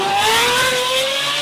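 A toy racing car gives a high, revving engine-like whine with rising and falling tones, close and fairly loud for a brief moment with no voices.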